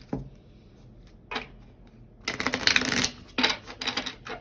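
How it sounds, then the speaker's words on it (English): Tarot cards shuffled by hand in a deck, heard as a soft tap near the start, then a brief burst, followed by two louder riffling bursts, close and with no one talking. "feel free to skip over the shuffling"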